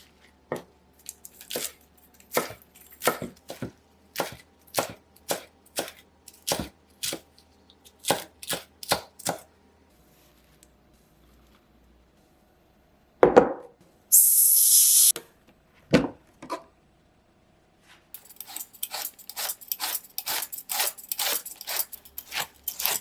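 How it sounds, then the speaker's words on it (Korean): A knife chops cherry tomatoes and lettuce on a cutting board in sharp, rapid strokes, briefly pausing amid a burst of hissing and rustling, then resuming as quick, dense, close-up cutting. "방울토마토는 3등분으로 자르시고요. 양상추도 길게 썰어주세요."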